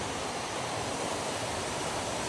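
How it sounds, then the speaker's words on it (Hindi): A waterfall near Manali roars in a constant, even hiss of rushing water, unbroken throughout and fairly soft. "देखिए झरना, देखिए"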